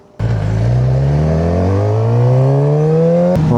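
A motorcycle on forest roads in the Cévennes starts up abruptly and accelerates, its loud engine note climbing steadily in pitch, then dropping at a gear change near the end, with no talk.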